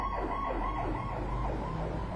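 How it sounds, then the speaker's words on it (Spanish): An ambulance siren wails steadily and loud, its rising and falling tone cycling every half second or so over a constant rumbling road noise, with no voices. "Ambulancia."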